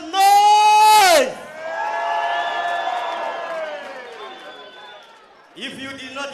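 A crowd cheers and makes noise at the MTC Salute Boxing Academy boxing bonanza. A loud drawn-out shout opens it, a swelling roar of cheering follows and fades, and more shouting cuts in at the end.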